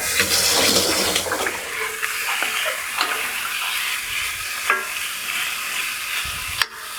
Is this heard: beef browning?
yes